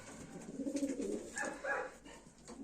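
Baku fighting pigeons coo softly and close by, a few low rolling calls in quick succession, fairly faint and with no talk.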